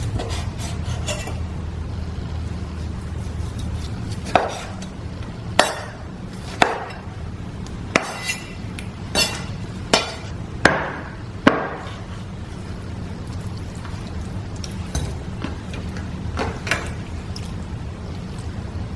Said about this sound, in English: And then cut it into little bite-sized pieces.